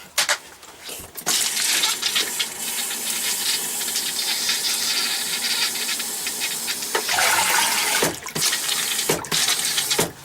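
An RV toilet fills with water in a strong, steady rush after a short gurgling start, close and loud, with brief sharp splashes and bursts of water near the end and no talking.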